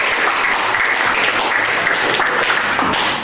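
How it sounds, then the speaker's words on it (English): An audience at a hypnotist show applauds the volunteers with a loud, dense round of clapping from many hands that carries evenly through the whole clip. "Let's give them a big round of applause."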